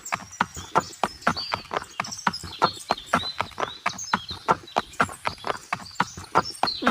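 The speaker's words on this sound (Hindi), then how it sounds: "सिक्का लेने के बाद लकड़हारा बंसीराम अपने घोड़े को लेकर धनी के पीछे चल पड़ा।" A woodcutter's horse walking on a forest path, its hooves clip-clopping in a steady, fairly close rhythm of regular sharp strikes throughout, with no talk over it.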